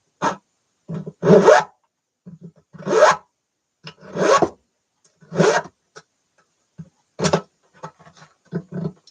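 Wood is trimmed on a part of a cello under rebuild, heard as short, close, dry scraping strokes in irregular bursts separated by silent gaps, with no talking.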